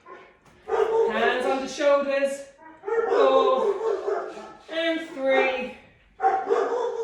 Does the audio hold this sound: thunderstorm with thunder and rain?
no